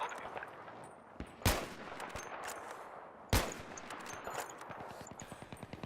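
Gunfire in the video game Battlefield 3: two loud, sharp shots stand out about two seconds apart over a steady stream of quieter rapid firing and battle noise.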